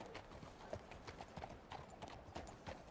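Horse hooves clip-clop at a steady walking pace, a series of distinct hollow knocks, moderately close but quiet, with faint background murmur.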